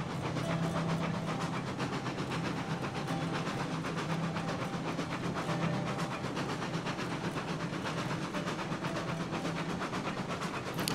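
A train runs steadily in the Railroads Online railroad game, heading back toward a coal mine over a bridge, with a continuous rumbling rail noise and low engine hum that stays even and moderately loud throughout.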